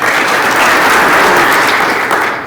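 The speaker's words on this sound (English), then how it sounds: "please join us in giving our nominees one more round of applause" An audience at an awards gala claps loudly for the nominees, a dense, continuous roar of applause that holds steady before tapering slightly at the end.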